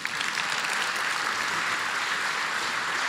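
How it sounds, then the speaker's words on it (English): An audience at a 2023 charity fundraiser for children claps steadily in a dense, even wash of applause from start to end, with no voices over it. "Okay, now you can clap."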